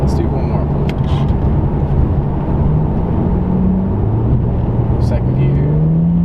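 A Procharged V6 Mustang making close to 500 wheel horsepower pulls hard, heard from inside with a loud engine drone whose pitch climbs steadily as it accelerates. Voices seem to be mixed in under the engine.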